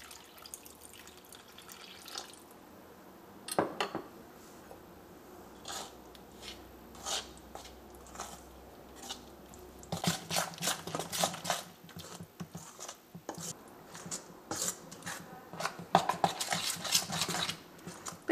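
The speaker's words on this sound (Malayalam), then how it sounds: "നമുക്ക് ഏറ്റവും ആദ്യം നമുക്കിത് മിക്സ് ചെയ്തിട്ടൊന്ന് ബാറ്റർ ആക്കാം." Batter being stirred with water in a bowl, with wet sloshing, dripping and scraping against the bowl in irregular bursts that grow busier and louder in the second half.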